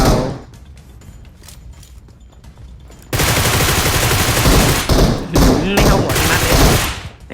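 Heavy gunfire at a boss in PUBG Metro: after quieter scattered shots and thumps, a dense, loud burst of rapid automatic fire runs for several seconds, with brief gaps between volleys.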